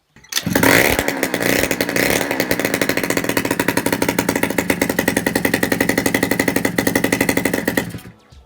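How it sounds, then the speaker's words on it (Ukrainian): A Suzuki ZZ Inch Up Sport scooter's small engine fires up and runs with a loud, rapid buzzing putter, sustained and close for several seconds before cutting off. "Перебрав його, поставив і о чудо, наш скутер почав заводитися."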